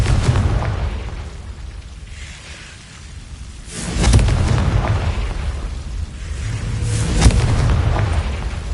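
A Confringo spell in Hogwarts Legacy bursts in two heavy booming explosions over a low rumbling game soundscape, the second blast sharper than the first.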